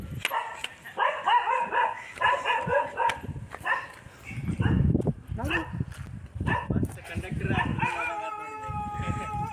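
A dog barks and howls repeatedly nearby in an outdoor rural setting, yips and drawn-out howls mixed with someone talking throughout.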